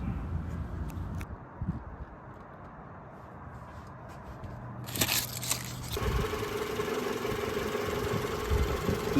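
A Renault Clio engine idles steadily at close range, a low even hum that turns louder and harsher partway through as the revs rise slightly.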